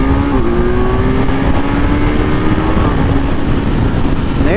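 A 2020 Kawasaki Z900 motorcycle accelerates hard with a quick shifter, engine droning loud and close with rising pitch and brief breaks as it bangs through the gears over heavy wind rush.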